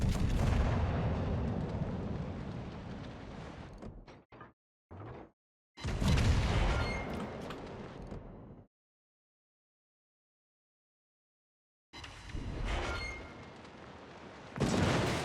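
Heavy battleship main guns firing in World of Warships, deep booming salvos with long rumbling tails, a short burst of sharp reports, then silence before another loud salvo rolls in.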